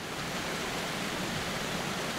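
A waterfall sound effect for a horror story gives a steady, dense rush of falling water, unbroken and even throughout, with no voices.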